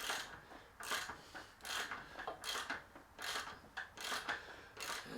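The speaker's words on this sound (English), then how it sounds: "Got a ratchet on this side, ratchet on that side." A ratchet wrench turns the bolts of an engine guard on a Triumph 1200 Explorer motorcycle, giving a series of quiet, evenly spaced rasping clicks in repeated back-and-forth strokes, close up with no talking.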